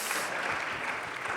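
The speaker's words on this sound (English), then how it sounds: "A round of applause again for Flores." Brief burst of crowd clapping at a Nerd Nite science talk, welcoming a volunteer named Flores, steady and fairly close for just over a second.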